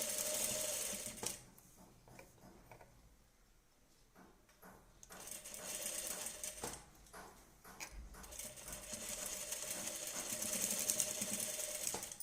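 A sewing machine stitches a blouse, alternating forward runs with quick reverse stitches, its close mechanical whirring rising and easing in uneven bursts.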